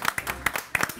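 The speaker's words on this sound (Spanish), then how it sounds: "Aplaudámoslo." A studio audience on a cooking show applauds, scattered hand claps popping in uneven bursts, close and fairly loud, with a few separate sharp claps standing out.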